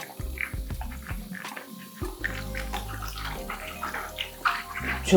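Tap water running at close range while a face brush and a washing glove are rinsed, splashing and gurgling steadily with shifting bursts as the items pass under the stream; no talking.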